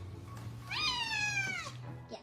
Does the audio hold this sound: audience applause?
no